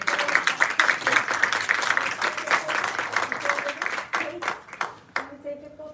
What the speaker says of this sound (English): And a special applause to Bilge for being here.